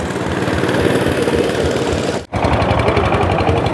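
A motorboat engine on Inle Lake in Myanmar drones steadily and loud, close by, with a rapid chugging pulse throughout and one sharp momentary dropout partway through.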